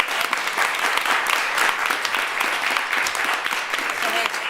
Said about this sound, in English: Can we please have another big round of applause for Tess?